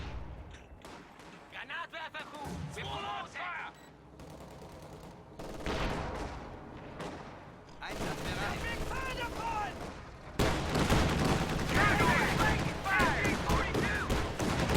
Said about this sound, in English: Autocannon hitting the green cover position right there.